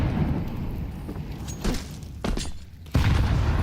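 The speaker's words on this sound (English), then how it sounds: "Nades coming in." Grenades burst during a Counter-Strike match in several dull, booming thumps amid scattered gunfire, ending with a louder blast.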